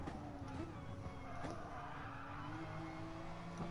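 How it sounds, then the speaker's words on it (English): A Porsche race car in a racing video game runs on track, its engine note dropping and blipping through downshifts with faint tire noise, heard at a moderate distance and fairly quiet overall. "That Porsche sounds lovely on the downshift."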